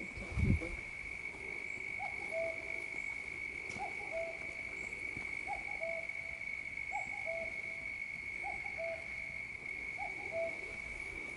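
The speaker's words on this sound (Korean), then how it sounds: "벌레 소리도 나네." Insects chirp outdoors near Hoedong reservoir on Mt. Burongsan in Busan, a steady high-pitched drone running throughout, with a soft repeated bird-like call at regular intervals.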